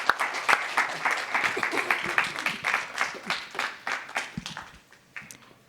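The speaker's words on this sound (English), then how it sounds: "So can we give Pedro one more round of applause?" An audience applauds with dense, rapid clapping that gradually thins out and fades toward the end.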